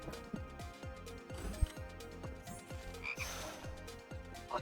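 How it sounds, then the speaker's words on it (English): A frog in the Touhou Lost Branch of Legend video game gives a rapid run of repeated croaks in an even rhythm, clear and close over a faint background. "Not the happiest to see this frog."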